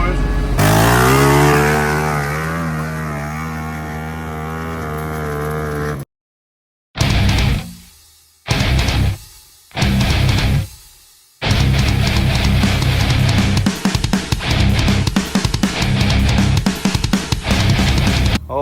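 An old Honda Big Red barn-find machine starting up, its engine running with a rough, uneven tone, cutting out several times between short bursts, then revving hard and loud with voices in the background.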